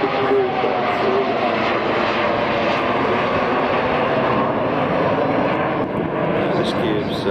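A Hercules military transport aircraft flies past at the 2014 Point Cook Airshow with a loud, steady, continuous engine roar that fills the whole stretch. An announcer's voice runs underneath it.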